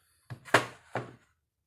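Old wooden drawers are shifted aside in three quick knocking thunks, close and fairly loud, with brief scraping between impacts.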